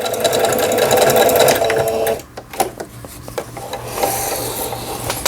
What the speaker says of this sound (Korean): 옷감이 풀어지지 않도록 해준다는 오버럭 스티치거든